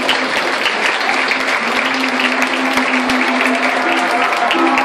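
An audience claps at a solidarity charity concert as a young singer receives an award, a steady dense round of applause held at an even loud level with a faint tonal hum underneath.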